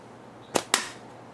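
Two sharp snaps from a frameless slingshot being shot, close together and loud against a quiet background, each with a brief crisp tail.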